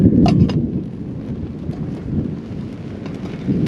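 Gusty wind buffets the microphone in the hot Australian outback ahead of a thunderstorm, a continuous low roar with a few sharper gusts, loud and close with no voices.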